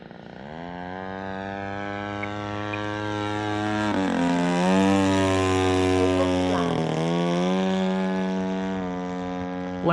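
A giant scale Seagull Models Zero RC plane with an EME60 gas engine drones steadily in flight, its buzzing note dipping and shifting as the throttle is eased back, loud and continuous throughout.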